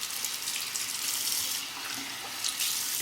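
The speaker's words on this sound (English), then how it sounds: "A quick face rinse." Water runs steadily from a tap during a face rinse at a sink while shaving, a close, continuous hiss and splatter with small splashy bursts.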